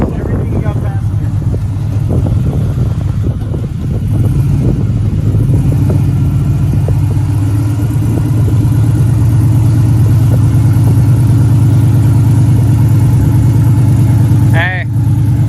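Off-road truck engine working hard as it crawls over rocks, a loud, steady, close-up growl that rises slightly through the climb, with people talking over it.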